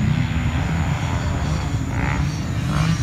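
A camera drone flies overhead outdoors in frosty winter conditions, giving off a steady, continuous propeller buzz with a low engine-like drone that holds at an even level throughout, with no talking.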